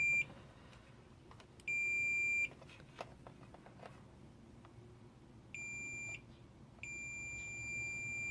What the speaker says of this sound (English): We'll test it with the multimeter. Still in the continuity test mode.